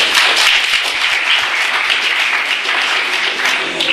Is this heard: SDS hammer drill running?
no